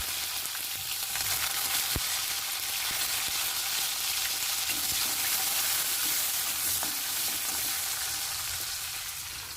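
Cumin seeds frying in hot oil give a dense, continuous crackling sizzle, close and loud throughout with a few sharp pops, no voices.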